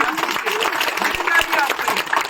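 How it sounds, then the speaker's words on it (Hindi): Brief clapping from an audience of students and teachers at a school visit, with lively, uneven claps under some crowd noise and a voice. "तालियां पटको अभी आप लोग।"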